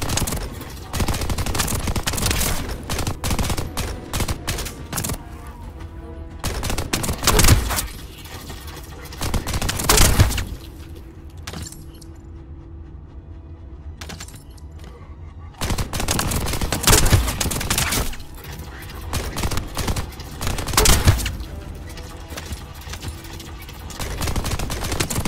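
Weapon fire in the video game The First Descendant, repeated loud bursts of rapid automatic shots with short pauses between volleys, near and punchy.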